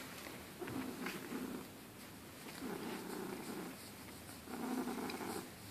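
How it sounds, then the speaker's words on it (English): A pet cat purring contentedly, very close and quiet, with a soft rhythmic rumble rising and falling in three slow breath cycles and nothing else heard. "This is his happiness purr."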